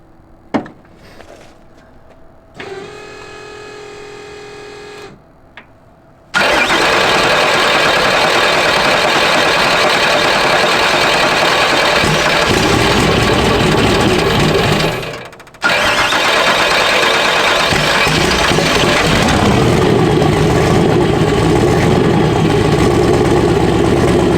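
A turbocharged 4.6 V8 car engine cranks with a whirring starter, then fires into a loud, close, rumbling idle, briefly dipping before settling steady again, with no speech.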